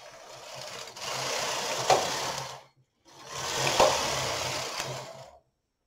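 A hand-operated knitting machine carriage slides across two rows while making a knitted hat, giving two steady whirring, rattling passes of about two and a half seconds each, separated by a short pause.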